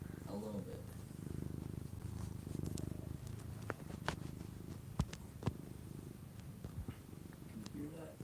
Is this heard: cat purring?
yes